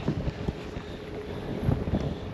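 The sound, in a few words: wind blowing over a boat on the water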